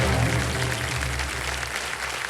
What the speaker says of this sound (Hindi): तालियां बज जाएं सबके लिए।